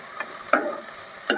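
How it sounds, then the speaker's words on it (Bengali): Dried fish frying with onions in a pan sizzles quietly under three brief scraping stirs close by. "হালকা আমার একটু শুটকিটা ভাজা হয়ে আসছে"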